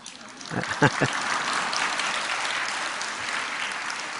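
A church congregation breaks into applause during a sermon on the Book of Revelation. A brief voice comes first, then soft, diffuse clapping spreads and continues at a moderate level.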